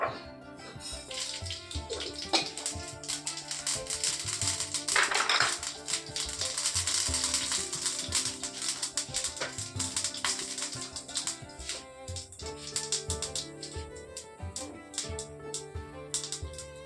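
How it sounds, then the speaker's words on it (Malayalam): Mustard seeds crackle and pop in hot coconut oil in a thin-bottomed pan, a dense run of small sharp snaps over a steady sizzle with music playing underneath throughout. "അപ്പോൾ കടുക് പൊട്ടിച്ചിടാം."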